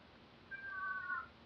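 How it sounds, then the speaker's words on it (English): An elderly cat meows once in the background, a faint, drawn-out cry lasting under a second with no other sound. "I'm sure you can hear my cat crying in the background."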